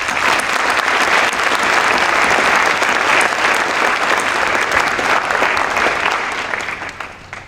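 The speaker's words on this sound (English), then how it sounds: "So if we could give them a round of applause." An audience at a high school National Honor Society induction ceremony applauds, a loud, dense, sustained burst of clapping that fades out at the end.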